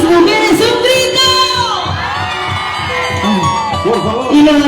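Women in the audience at an anniversary celebration event in Martina de los Andes shout and cheer together. The crowd noise is loud and sustained, with high-pitched yells and whoops.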